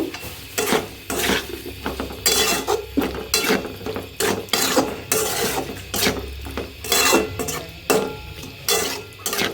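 Rhythmic scraping strokes of a spoon stirring tomatoes frying in a pan, close and repeated every second or so over a low steady sizzle, for a tilapia fish curry being cooked.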